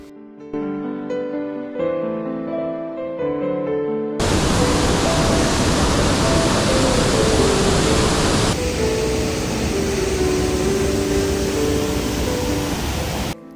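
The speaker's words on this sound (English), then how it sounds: "high airy viewpoints going close to the surging Storforsen waterfall" The Storforsen waterfall in Norway roars as a broad, constant rushing wash, loud and steady, with a short stretch of music playing before it.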